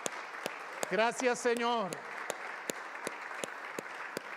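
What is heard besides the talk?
church congregation applauding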